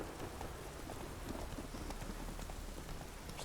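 Steady rain falls in a forest in The Witcher 3, a continuous soft hiss dotted with dense patter, even and unbroken throughout at low volume.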